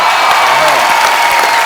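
An audience claps on The Kapil Sharma Show, a steady, dense wash of applause held at an even level throughout, with faint voices mixed in.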